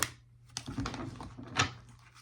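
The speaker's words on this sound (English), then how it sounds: "They're so big that I have to actually shuffle them differently than any other deck." A deck of oversized tarot cards is shuffled, giving a couple of short papery riffling bursts and soft slaps, close and fairly quiet.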